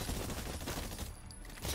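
Rapid gunfire in a video game, shooting at targets during a movement and aiming tutorial, forms a dense, continuous burst that stays loud and close for the whole stretch with no talking.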